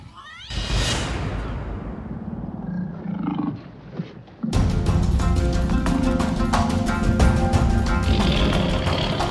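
A tiger roars loudly in a TV drama scene, a rough, breathy growling burst early on, followed midway by a sudden louder and busier wash of sound.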